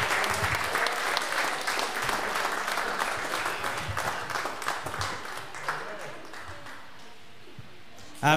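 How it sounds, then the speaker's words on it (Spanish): Congregation applause at a church Christmas service for the youth group, a dense wash of clapping that gradually thins and fades toward the end, with murmured voices in the crowd. "Un fuerte aplauso para ellos también en esta hora."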